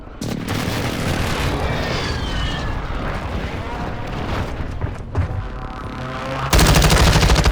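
A video game airstrike in Call of Duty roars in with dense, continuous rumbling gunfire and blasts, ending in a sudden loud, harsh burst of noise; a radio-style voice speaks over it.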